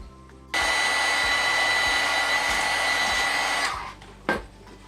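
An electric heat tool blows steadily and loudly at close range to melt gold embossing powder on a floral pop-up card. The whirring roar runs for several seconds, then fades out, followed by a brief click.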